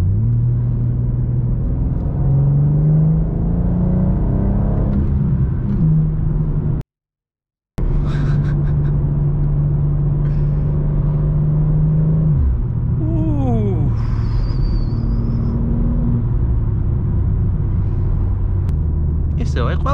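A BMW M2 in Sport Plus mode accelerates hard on an unrestricted German autobahn, its engine note climbing in rising sweeps with a steady road rumble beneath. A person talks over it, and the sound cuts out briefly partway through.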